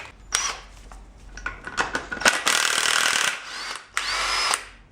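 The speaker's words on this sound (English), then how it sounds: "hold the inside of the actual cylinder so it can prevent it from spinning when I impact it" Impact wrench zipping off the top nut of a Koni Yellow shock on a 2006–2011 Civic Si suspension build, heard as several short close bursts, then two longer sustained loud bursts, with no talk.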